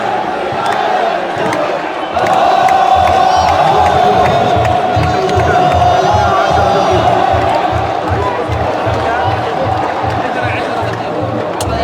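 Dense stadium crowd at a football match between Al Riyadh and Al Ahli roaring and chanting, with a rhythmic pulsing drumbeat throughout, loud and continuous.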